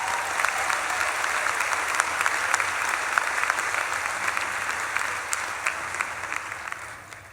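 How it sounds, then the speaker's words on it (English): Sustained crowd applause at a University of Vermont agriculture and life sciences graduation celebration, steady and full from a large gathering. "Give yourself a round of applause"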